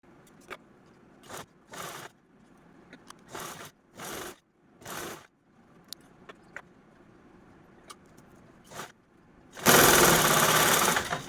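A sewing machine stitches lace onto a belt in short bursts with pauses between them, then runs in one louder continuous stretch near the end, close and clear with no talking.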